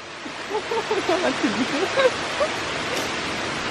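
A spout keeps splashing water over hands into a stone basin at a Japanese shrine purification fountain in Hakone, a steady rushing under a voice talking nearby.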